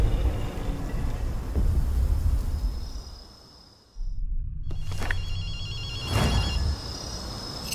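A telephone rings in the video game Ghostwire: Tokyo, with repeated bright electronic trills partway through, heard over a steady low ambient drone.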